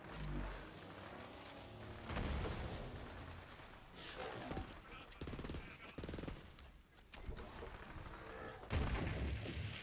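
Video game firefight from Borderlands 3, with bursts of gunfire and booming shots in clustered volleys, loud and chaotic with brief gaps between.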